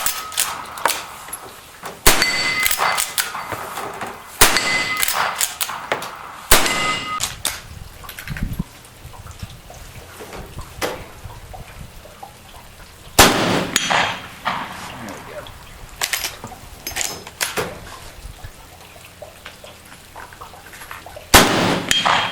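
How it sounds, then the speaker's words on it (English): Rifle rounds from an M92 strike a half-inch AR500 steel plate 100 yards away, giving sharp ringing clangs spaced a few seconds apart with faint echoes. Quieter ticks and handling noises fill the pauses. "We're just going to be doing some shooting on that with the M92 with the Missouri Bullet Company 300 grain bullets."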